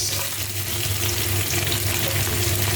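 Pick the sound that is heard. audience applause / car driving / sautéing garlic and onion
sautéing garlic and onion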